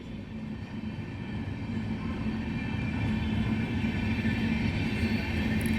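Sairang Express train at Berhampore Court railway station, a steady low rumble that builds slightly and holds, broad and continuous with no horn or voices.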